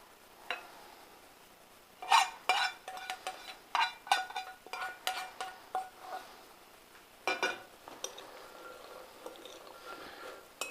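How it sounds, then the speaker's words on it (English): Nuts are tossed in a bowl with hot rosemary oil, giving a series of close, crisp rattles and clinks as the nuts knock against the bowl, arriving in irregular bursts of a second or two. "We're going to toss that in with our nut mixture."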